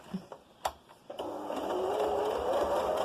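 A sewing machine stitches fabric over pins for a face covering, starting after a few handling clicks and then running in a steady, rising whir close by.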